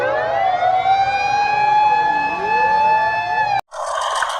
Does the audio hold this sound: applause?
no